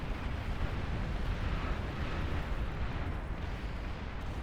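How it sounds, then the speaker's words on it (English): Long-range napalm artillery vehicles in the strategy game Beyond All Reason firing in bursts, heard as a continuous rumbling roar of blasts and fire, dense and steady for the whole stretch. "Long range burst fire napalm artillery vehicle."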